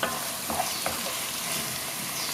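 Half a spoonful to a spoonful of garlic fries in a pan, a continuous soft hiss of sizzling oil with a few light stirring clicks near the start, no voices.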